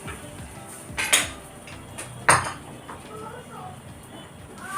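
A metal lid clinks down onto a pan of cooking eggs for an egg masala or podimas, two sharp metallic knocks over quiet kitchen background noise.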